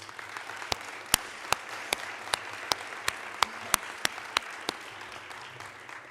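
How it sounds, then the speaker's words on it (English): A medical symposium audience at a breast cancer conference gives faint applause for patient advocates, heard as sparse, evenly spaced sharp claps over a low hum of the room. "let's give them another round of applause"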